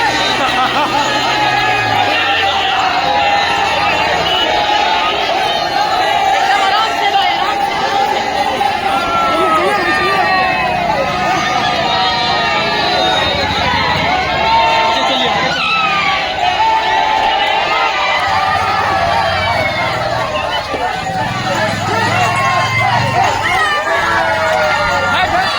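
A dense street crowd in a packed lane, with continuous overlapping voices and shouting, shuffling movement and a faint siren-like wail running through.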